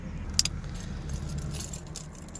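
Keys jangle sharply up close while a Ford F150 truck's engine rumbles low and steady underneath, already running at idle.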